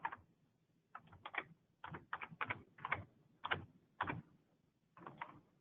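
Computer keyboard typing, a close, moderately quiet run of key clicks in short uneven bursts with brief pauses between them, no talking.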